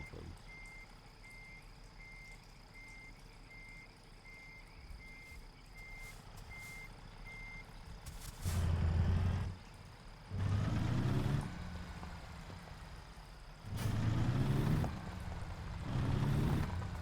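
Reversing beeps repeat steadily in a simulated truck from Truck Simulator over a low engine hum, then stop as several loud hissing bursts of air brakes follow in turn.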